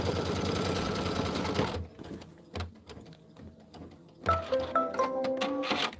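A sewing machine runs a placement stitch in fast rhythmic bursts, a steady mechanical whir at the start, then a pause with faint ticks and clicks before it starts stitching again.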